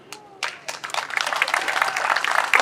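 Audience clapping for Senator Bob Wieckowski at a school ribbon-cutting ceremony starts with a few scattered claps, then quickly swells into steady applause from a nearby crowd.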